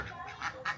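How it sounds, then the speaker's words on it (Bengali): Ducks quack in a yard near a house, giving two or three short nasal calls that grow louder toward the end over faint background noise. "হাঁসগুলো ধর"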